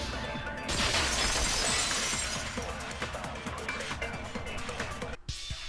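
Glass shattering from the Danganronpa 2 video game, a loud sustained crash of breaking fragments lasting several seconds, cutting off abruptly near the end.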